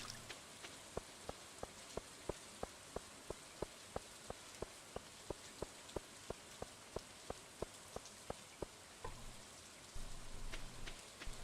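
Steady rain patters on a surface at a bus stop in a video game, with evenly spaced soft ticks dripping through the hiss and a louder rumble swelling near the end; no voices.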